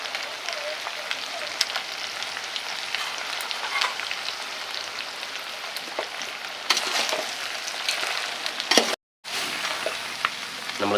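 Ginger garlic paste frying in hot oil for a village-style country rooster (nattu seval) fry, a steady close sizzle with occasional stirring scrapes and a brief dropout near the end, no talking.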